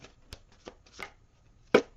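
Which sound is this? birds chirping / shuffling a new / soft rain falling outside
shuffling a new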